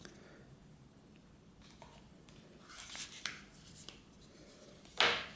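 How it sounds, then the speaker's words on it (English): A phone coming out of its packaging: quiet rustling and sliding of box and wrap close by, building to a few crisp scrapes and a sharp burst of crinkling near the end. "So let's take it out of the packaging."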